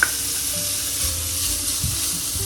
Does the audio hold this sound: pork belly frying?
yes